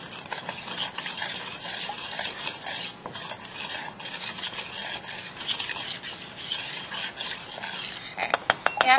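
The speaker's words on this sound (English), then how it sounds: "you can go ahead and just give it a little mixture with your spoon." A spoon mixes a meat marinade in a bowl, making continuous close scraping and clinking in a quick, steady rhythm, ending with a few sharp rapid taps.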